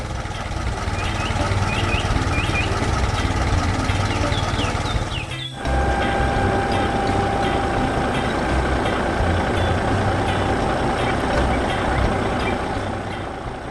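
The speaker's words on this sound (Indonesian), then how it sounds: "Traktor ungu bekerja keras di ladang" A purple tractor works hard in a farm field beside a wooden fence and a classic barn; a steady, loud engine rumble runs throughout, with faint chirps above it and a brief dip midway.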